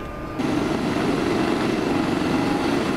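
A helicopter in a video game starts abruptly and then holds a steady, loud whirring rotor and engine drone, close and continuous with no voices.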